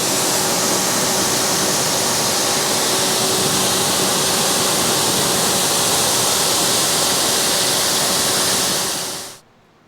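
Hose water spraying steadily and loudly onto a car wheel to rinse off a dissolved tar-removing chemical, a continuous broadband rush that stops abruptly near the end.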